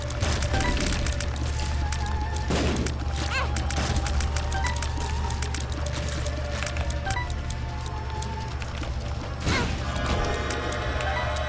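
An explosion in The Binding of Isaac: Afterbirth, a few short crashing bursts over a steady hum of game music and effects, with nothing standing out strongly.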